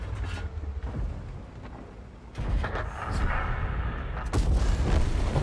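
A tank cannon fires a high-explosive shell in World of Tanks, heard as heavy, booming blasts with rumbling tails against a dense battlefield background.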